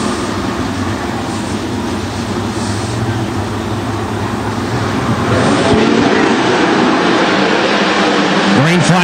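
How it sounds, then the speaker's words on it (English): Sprint cars roaring around a dirt track at an ASCS National heat race, a loud continuous engine drone that swells as the field gets the green flag, with a commentator talking over it. "It will be the 59 of Fisher jumping out into the race lead."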